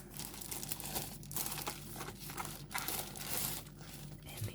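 Packaging crinkles and rustles steadily at close range as a mechanical keyboard is unwrapped, in continuous crumpling bursts.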